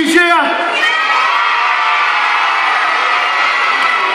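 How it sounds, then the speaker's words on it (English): An outdoor Christmas crowd in Golden Square, Warrington, erupts into a loud, sustained cheer with whoops and children's shouts, filling the whole few seconds at close range. "let me hear you cheer"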